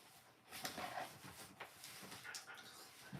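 Dogs at home pant, snort and whimper faintly in the background, their soft, restless noises rising and falling in short bursts.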